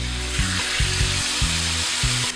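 Marinated beef for daging bakar sizzles steadily on a grill, with a dense crackling hiss throughout and a few low thumps, and no talking.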